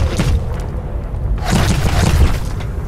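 An enemy 6P41 shot in the video game Ghost Recon Online, heard as sharp bursts and booms over steady firefight noise, with a loud cluster of impacts in the second half.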